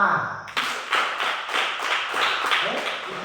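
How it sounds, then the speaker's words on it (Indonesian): Classroom applause: a short, even run of rhythmic claps, moderately loud and close, lasting about three seconds after a brief opening murmur. "Tepuk tangan."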